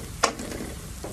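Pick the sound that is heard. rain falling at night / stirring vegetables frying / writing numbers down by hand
stirring vegetables frying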